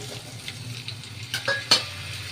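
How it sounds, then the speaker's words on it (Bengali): Chicken pieces laid into a nonstick pan over a low flame give a soft, steady sizzle, with a few utensil clinks and scrapes close by and no talking. "এবার আমরা যে চিকেন রয়েছি এটাকে দিয়ে দিলাম"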